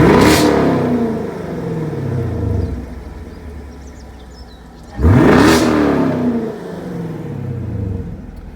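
2016 Chevrolet Camaro 2SS exhaust revving twice, each blip a sharp loud roar that rises quickly and then rumbles down as the revs fall, heard close and alone with a few seconds of idle burble between the two.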